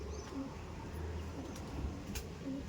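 Andhra pigeons coo softly and repeatedly in a loft, low gentle calls over a faint background hum.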